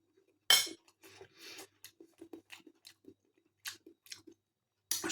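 Close, wet chewing of a mouthful of baked beans and rice, in short irregular bursts with a couple of sharper crunchy onsets and faint cutlery clinks, with no talking.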